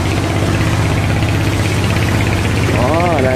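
A large fishing boat's engine runs hard at speed, a loud, continuous low rumble with a dense roar over it and no pauses; faint voices may sit under the noise.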